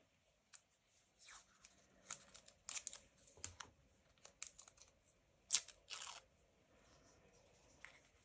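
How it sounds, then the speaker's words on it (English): A strip of washi tape is torn and handled during notebook decorating: quiet, close crinkling and ripping sounds in short scattered bursts, with one sharper tear, otherwise near silence. "A little bit of this washi tape"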